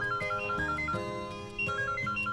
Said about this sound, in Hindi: साहब जी आपका फोन।